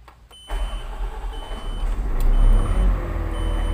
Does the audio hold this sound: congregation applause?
no